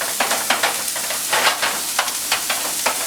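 Ground beef frying for a taco pie sizzles steadily in a pan, broken by repeated scraping stirs from a utensil, close and fairly loud with no talking.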